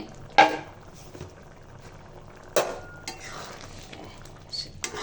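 Lentil dal with spinach stirred in a cooking pot, a few sharp clanks of a spoon against the metal rim over a faint bubbling simmer, close by.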